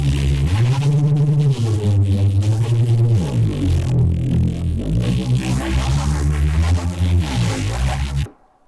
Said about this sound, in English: today I would like to show you this Serum preset